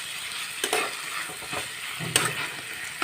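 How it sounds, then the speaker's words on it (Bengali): Chicken pieces frying with spices in a pan, a continuous sizzle broken by several scraping stirs of a spatula, close and alone without talk. "ভালো করে মাংসটাকে আমি মশলা দিয়ে কষিয়ে নেব।"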